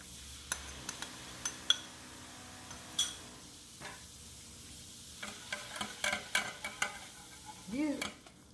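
Soda water and starch are mixed in a bowl, with quiet scattered clinks and scrapes of a utensil against the bowl, faint and close, and a short murmur near the end.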